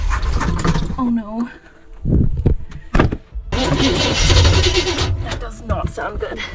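A 1977 GMC Vandura van with a carburetor problem cranks and catches, the engine sputtering and roaring unevenly up close, with a person talking over parts of it.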